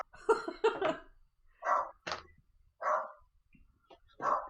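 A small dog gives a handful of short, sharp barks one after another, spaced out with brief pauses, loud and close by, with some huffing breath between them.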